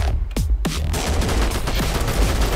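Rapid bursts of AK rifle fire in a video game, loud and close, several sharp cracks at the start followed by a ringing, echoing tail, with no voices.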